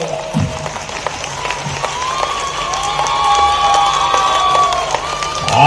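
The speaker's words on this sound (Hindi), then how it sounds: "सच में दिलीप जी का मैं स्वागत करता हूं, अभिनंदन का आप जोर से ताली बजाओ" A large audience at a mass wedding ceremony in Indore breaks into loud applause and cheering that builds and grows denser toward the end.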